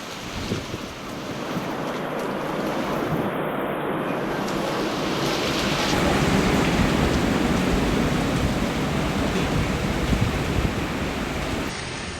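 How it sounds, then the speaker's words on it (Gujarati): Heavy rain and strong wind in Valsad, Gujarat, make a dense, roaring wash of noise that holds steady and swells slightly over the length. Gusts buffet the microphone, and no voices are heard. "વલસાડના અલગ અલગ વિસ્તારોમાં ભારે પવન સાથે વરસાદ ખાબક્યો છે."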